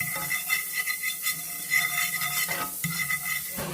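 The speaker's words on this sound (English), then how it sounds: "Sizzle, sizzle, sizzle, sizzle." Shrimp sizzle and crackle in a hot pan, with scraping and stirring clatters against the pan throughout.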